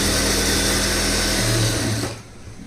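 A sewing machine runs in one steady, continuous burst while stitching the lining cloth of a stone model blouse, then stops abruptly near the end, leaving quiet.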